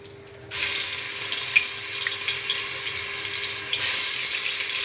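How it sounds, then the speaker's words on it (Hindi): Ginger and garlic sizzle in refined oil in a pot, starting abruptly and holding as a steady, loud, even hiss with no talk. "ये हमने रिफाइंड ऑयल लिया है, इसमें हम अदरक लहसुन डालते हैं"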